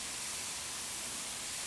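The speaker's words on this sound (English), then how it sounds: "At this point, you can hear the first hiss of the escaping ions." Asymmetrical capacitor thrusters driven through a voltage multiplier from about 100 volts AC give off a steady, even broadband hiss of escaping ions, constant and unbroken throughout with no voices.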